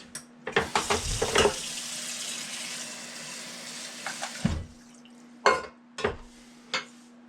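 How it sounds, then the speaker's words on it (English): A small splash of water poured into a pot of cooking duck, a brief rushing pour followed by a few louder clanks and scrapes of utensils against the pot. "I am going to add a little water, just a bit."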